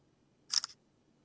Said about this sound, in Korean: 약간 이런 느낌의 찰칵 하는 소리가 들리죠?